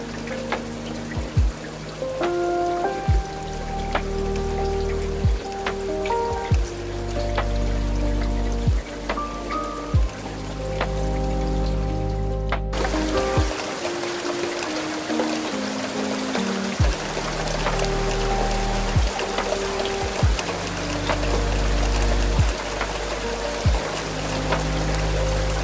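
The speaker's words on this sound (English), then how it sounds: "the great, encompassing rush of the rain against the glass" Heavy rain rushes and patters against the window glass of a midnight train crossing the Scottish Highlands, a steady, dense wash of drops with a soft low rumble beneath, continuous and close throughout.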